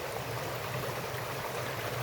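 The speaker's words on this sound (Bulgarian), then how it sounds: "това е поток, образуван от малките реки Ведена и Планщица" The Iskar river, fed by the small Vedena and Planshtitsa rivers, flowing as a steady stream: a continuous, even rushing and gurgling of water, close and moderately loud, with no voices.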